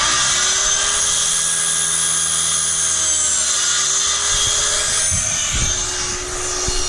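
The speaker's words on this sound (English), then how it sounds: "Yes, we do use power tools." A power tool whines steadily at a high, constant pitch on a house-building site in the Philippines, loud and close, with a few low thumps near the end.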